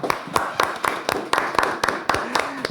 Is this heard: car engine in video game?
no